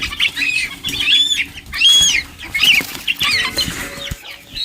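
A hen clucks among a large brood of chicks in a village yard. High, rapid peeping from the chicks comes in repeated bursts over her low, close clucking, with occasional rustling and wing flutters.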